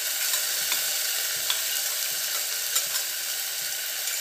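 Ginger, garlic and green chili paste sizzles and fries steadily in a pan with browned onions, a close, continuous crackle with small stirring clicks and no talk.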